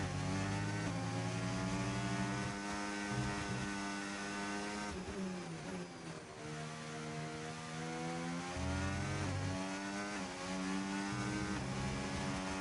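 A race car engine in the F1 25 video game screams through rising and falling revs with worn rear tyres spinning, loud and continuous, with sweeping gear-change pitch slides and a brief dip midway.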